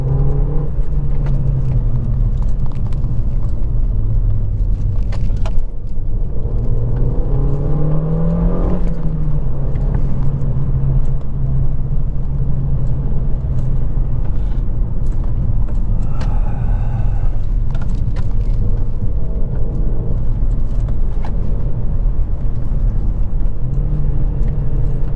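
Renault Mégane 2 RS hot hatch, 225 hp, driving with its engine loud and steady, rising and falling in revs with a strong low drone throughout and no voices.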